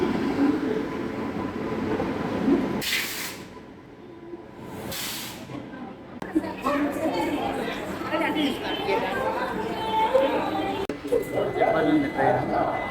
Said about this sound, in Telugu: ఇదే మన ప్లాట్ఫామ్. చూస్తుండగా ట్రైన్ కూడా వచ్చింది